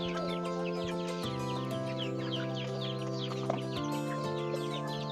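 Backyard chickens cluck in a steady chorus, with several birds overlapping against a constant low hum and occasional brief knocks.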